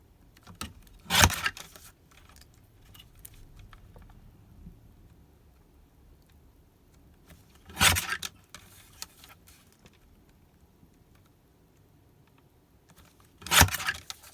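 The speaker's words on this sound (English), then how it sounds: "Now let's get my cutting board, my little cutter here, and we'll trim this one." A small paper trimmer slicing through a die-cut paper piece makes three sharp, crisp cutting swipes spaced several seconds apart, each one close and distinct against a quiet background.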